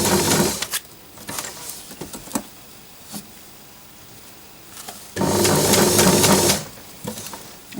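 Sewing machine stitching fabric for a vintage-style cushion boot, running in short bursts: a brief stretch at the start, a few quick stutters, then a steady longer run near the end, close and fairly loud with pauses of quiet between.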